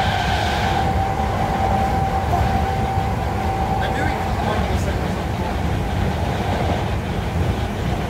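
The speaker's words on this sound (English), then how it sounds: "the gearbox is the sound of the traction motor sort of subtly idling after power is cut" Class 318 electric multiple unit in Train Simulator, British Rail Mark III-derived stock, with the gearbox and traction motor softly idling after power is cut; a steady low rumble of rolling train noise runs throughout with a faint whine.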